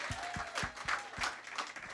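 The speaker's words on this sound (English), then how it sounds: "Let's give her a round of applause" Audience applause at an outdoor family festival in Newark, faint and distant, with scattered claps and a few sharper hand claps in a loose rhythm under a light crowd murmur.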